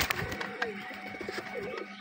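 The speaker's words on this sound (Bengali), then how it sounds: "অরিজিনাল দেশি কবুতর" Native domestic pigeons at a home pigeon farm give soft, low, throaty coos in short repeated bursts, close by and fairly quiet.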